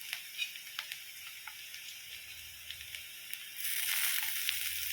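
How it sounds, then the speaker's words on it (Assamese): Ginger garlic paste hitting a hot pan, soft crackles and pops at first, then a louder sustained sizzle swelling near the end, close by with no talk. "অকণমান ভজাৰ পিছত আদা নহৰু পিচি লোৱাখিনি দিম"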